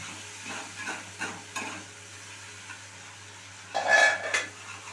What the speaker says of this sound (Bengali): পেস্টটা ভালো করে আমি একটুখানি মিশিয়ে নিচ্ছি, মানে ফ্রাই করে নিচ্ছি, যাতে মশলার কাঁচা গন্ধটা চলে যায়।